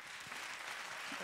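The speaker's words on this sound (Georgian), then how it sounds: "აპლოდისმენტები" An audience claps in a brief, quiet burst, a short spell of steady applause.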